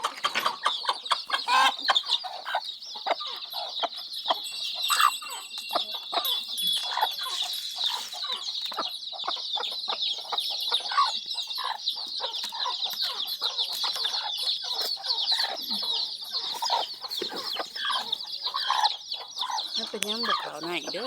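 Chickens and chicks cluck and peep continuously in a dense, busy chorus at close range, with high chirping throughout and occasional voices beneath.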